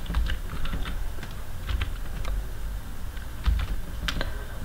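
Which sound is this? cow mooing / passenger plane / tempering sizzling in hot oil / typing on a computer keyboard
typing on a computer keyboard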